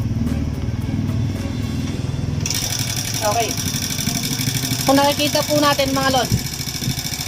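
A Honda Wave-type Auro 110 motorcycle engine with a carburetor idles steadily with a low, even putter throughout, while someone talks over it.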